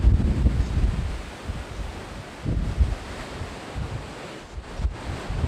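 Sea waves wash in on the shore at Arromanches in repeated surges, rumbling and hissing against steady wind buffeting, with no voices.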